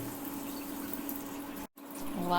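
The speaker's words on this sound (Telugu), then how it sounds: "ఇప్పుడు వాటర్ పోసుకుందాము." Water poured into a cooking pot for katte pongali, a soft steady trickle and splash at low level, with a brief break before the flow resumes.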